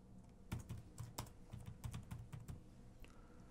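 Someone types a file name on a computer keyboard, a quick run of close, crisp keystrokes in an uneven burst, heard alone with no talk.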